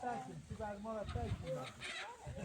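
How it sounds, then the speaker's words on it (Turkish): Chickens cluck and murmur close by in short repeated calls, mixed with a few soft background noises. "Rüya gel tavukları yakalayalım Rüya."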